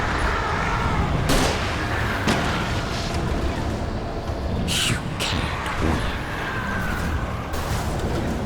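Gunfire in the video game Alan Wake Remastered on Nightmare mode, several sharp cracking shots at irregular intervals over a loud rumbling game backdrop.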